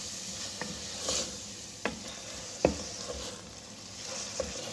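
Minced meat fries with coriander powder and spices in a pan, a steady low sizzle broken by a few sharp spatula taps and scrapes, with no voices.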